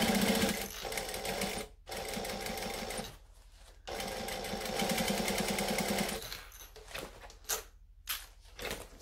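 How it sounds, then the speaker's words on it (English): A sewing machine stitches slowly along fabric on a 3D sewing project, its close, steady motor whir running in bursts broken by short pauses. "And then we're just going to slowly stitch along."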